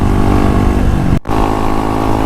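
A TMX motorcycle engine runs loud and close on a mountain road in Tarlac, a steady buzzing drone that briefly cuts out near the middle, then resumes at full strength.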